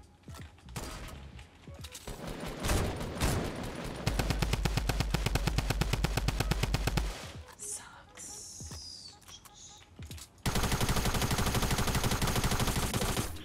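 Rapid automatic gunfire from Fortnite Battle Royale, with long rattling bursts of evenly spaced shots, a brief quieter stretch with a whoosh, then another sustained burst. Soft voices come through faintly beneath the shooting.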